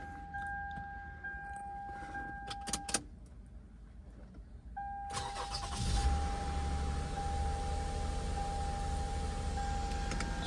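A car engine is cranked and started after a spark plug replacement, preceded by a steady chime and clicks; the engine then catches and settles into a low, even idle hum under a continuing warning tone.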